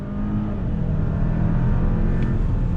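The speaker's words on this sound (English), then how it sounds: "we're gonna do another on throttle from a slow roll here" A 2021 Hyundai Santa Fe Calligraphy with an 8-speed automatic accelerates on throttle from a slow roll, giving a steady, close engine and road drone that holds loud and even throughout.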